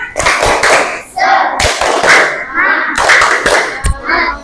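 A class of students performs the tepuk semangat rhythmic clapping chant to close an Islamic religious education lesson, with patterned claps mixed with young voices chanting along.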